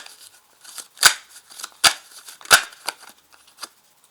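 Tarot cards being handled and drawn from a deck, giving a few crisp snapping flicks and soft papery rustles close up, with no talking.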